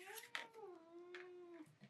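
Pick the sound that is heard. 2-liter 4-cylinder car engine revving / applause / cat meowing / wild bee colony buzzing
cat meowing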